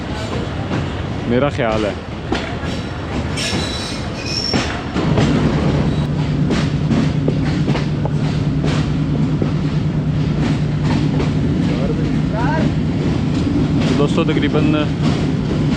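Karakoram Express train with locomotive GU409038 runs along, its rumble and clatter continuous, with a steady low engine hum joining partway through and someone speaking over it.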